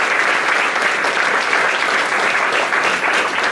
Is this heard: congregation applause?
yes